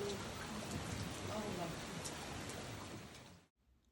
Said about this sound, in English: drifts slowly and nonchalantly to the steady rhythm of falling rain